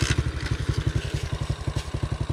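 A single-cylinder motorcycle engine chugs at a fast, regular idle, loud and close, with rhythmic thumping pulses throughout.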